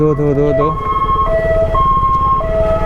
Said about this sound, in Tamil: ஆம்புலன்ஸ் வேறு அடிக்குது.